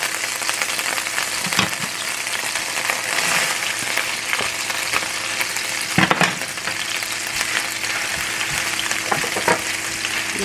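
Onion fries in a pan with a dense, steady sizzle, broken by a few clinks and scrapes of stirring.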